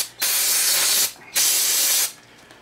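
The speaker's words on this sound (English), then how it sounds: "Just spraying that with some of that." Two close hissing bursts of aerosol spray onto a 1978 Johnson 6 HP outboard motor, each lasting about a second, with a short pause between them.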